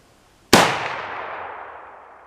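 A single sharp 30-30 rifle shot cracks out loud and close, then rings away in a long fading tail over about two seconds.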